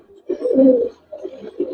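Old-breed Giribaz pigeons in a loft coo in two short, close, rolling bursts with a brief pause between them.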